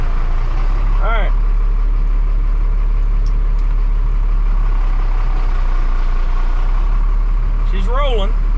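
A truck's engine idles with a low, steady rumble as it rolls in reverse with the brake eased off, and two short rising squeals cut in near the start and end, with someone talking over it.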